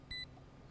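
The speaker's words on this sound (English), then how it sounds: "That beeping, though." Electronic beep from a Valorant esports match, a single short tonal bleep with bright harmonics over low game noise, fairly faint and brief.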